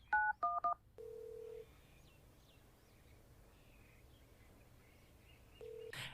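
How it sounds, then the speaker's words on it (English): Telephone keypad dialing 911: a few quick, clipped DTMF tone beeps at the start, followed by a steady ringback tone, with faint chirping in the background. "as you dial 911"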